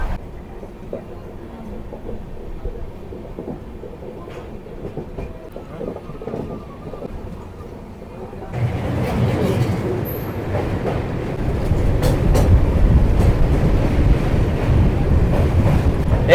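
A new Howrah to Digha LHB passenger train runs along, heard from on board as a low rolling rumble with faint clatter that grows noticeably louder and rougher halfway through.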